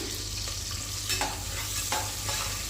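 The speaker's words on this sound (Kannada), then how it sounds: "2 ಮೀಡಿಯಮ್ ಸೈಜ್ದು ಈರುಳ್ಳಿನ ಕಟ್ ಮಾಡಿ ಸೇರಿಸ್ಕೊಂಡು 3 ಹಸಿಮೆಣಸಿನ್ಕಾಯಿನ ಹಾಕಿ ಫ್ರೈ ಮಾಡ್ಕೋತಾ ಇದ್ದೀನಿ." Two chopped medium onions and three green chillies fry with spices for methi pulao, a loud close sizzle with a few stirring scrapes over a low steady hum, with no one speaking.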